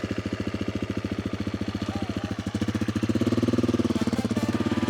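A Husqvarna FE 350 enduro motorcycle engine chugs with a fast, even thumping pulse at a super enduro course, rising a little in pace and loudness partway through, close and prominent with no talking.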